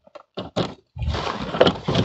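A car door card being pried off a door panel: a few quick sharp plastic clicks and knocks, then a louder, rougher scraping and creaking burst as the panel comes away. Close up, with no voices.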